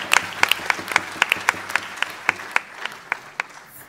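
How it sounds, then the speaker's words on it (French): Audience applause for a magician's assistant at a stage show in Namur, a steady patter of hand claps from a moderate crowd lasting the whole stretch and fading slightly toward the end. "On peut l'applaudir, je pense."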